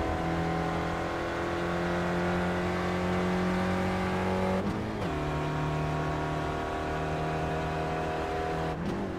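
Onboard racing car engine at Silverstone International, a steady loud drone holding a high pitch, then dropping sharply twice as the driver shifts and lifts before climbing back to a sustained whine, with no talking over it.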